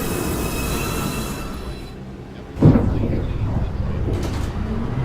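A New York City subway 2 express train pulls into an uptown station, its broad rumble and wheel noise swelling partway through and holding loud to the end.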